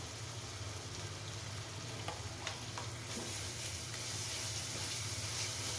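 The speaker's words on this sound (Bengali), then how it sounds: "দিয়ে মশলাটাকে ভালোভাবে কষিয়ে নেব।" Spice paste with ginger-garlic paste for a chickpea dish fries steadily in oil, a continuous sizzle with light stirring scrapes throughout.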